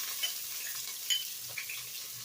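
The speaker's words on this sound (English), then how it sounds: "You literally want to get them fragrant in that olive oil." Onions frying in olive oil in a pan for pasta and peas, a soft steady sizzle with a few light clinks of a spoon stirring, close and without talk.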